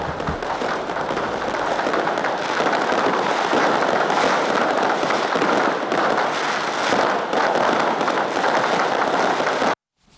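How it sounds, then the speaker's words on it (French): Dense, continuous crackling and popping of fireworks fills the air, loud and unbroken for about ten seconds before cutting off abruptly. "un magnifique spectacle de feux d'artifice"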